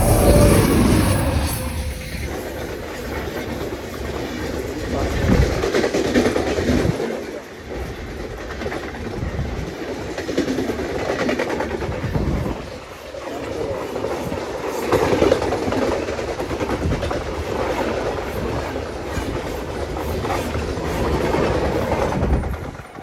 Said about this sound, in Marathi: आता ट्रेन आली आहे.